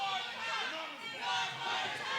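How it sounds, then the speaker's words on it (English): An indoor arena crowd at an independent wrestling show chants in loud massed voices that swell and dip in a repeating cadence. "the crowd chanting one more time"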